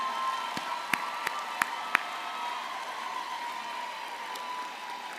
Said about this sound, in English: let's have a round of applause for all of our graduates.